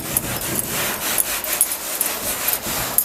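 Steady scrubbing of a rag or brush working paint into the rusty patina on a 1951 Chevy rat truck, a close, continuous rasping friction with regular strokes and no voices.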